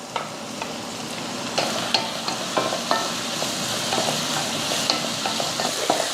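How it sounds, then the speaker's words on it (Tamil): Tomato and onions sautéing in a pan for egg biryani, with a steady soft sizzle and occasional scraping stir clicks, close and continuous with no talk. "வெங்காயத்தோட அந்த பச்சை வடை போனதுக்கப்புறமா ஒரு தக்காளி சேர்த்துடலாம்."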